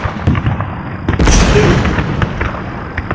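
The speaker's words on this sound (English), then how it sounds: "The guns are opening up." A single loud cannon-like boom erupts and rumbles away, with smaller crackling reports around it, during a tabletop Napoleonic wargame.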